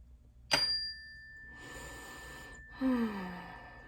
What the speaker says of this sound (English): let me do my favorite thing, the bell.